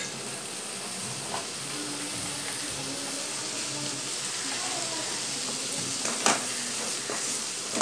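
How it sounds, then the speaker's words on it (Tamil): Mutton liver sizzles in a pan as it is sautéed with turmeric and chili powder, a steady faint frying hiss with occasional stirring clatters and light scraping. "மிளகாத்தூள் வாசனை போகிற வரைக்கும் நம்ம வதக்கணும்"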